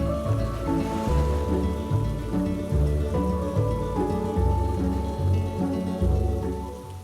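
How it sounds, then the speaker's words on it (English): Heavy rain pours steadily with low rolling thunder rumbling underneath in an animated storm scene, loud and continuous with no voices. "thunder crackled in the air, and the rain suddenly began to pour."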